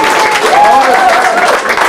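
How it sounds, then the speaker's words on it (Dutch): Crowd applause for the youngest participant at a prize ceremony of a pearkekeatsen (pairs kaatsen) competition in Tytsjerk: steady, dense clapping that stays loud and close throughout, with no pauses. "dat wil ik wel in apart applaus geven voor de jongste deelnemer"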